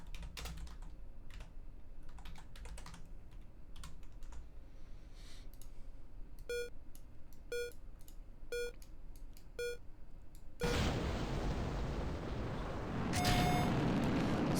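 Rocket engine ignites and burns in the RP1 Redux spaceflight game, a sudden loud broadband roar that starts after a stretch of keyboard typing and a run of short interface beeps, then holds steady and builds slightly.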